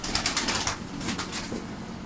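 Breeding pigeons coo softly at close range while wings flap in bursts, a mix of low throaty calls and quick fluttering with no voices.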